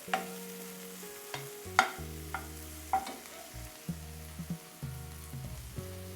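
Browned onion and chopped tomato frying in a pan, a quiet sizzle with scattered scraping stir clicks and light taps of a spoon, close and faint with no talking.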